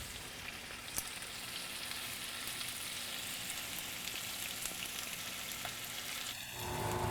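Jerk tofu fries in a pan with a steady, even sizzle that runs the whole time at moderate level, no voices, and a brighter rush of frying near the end.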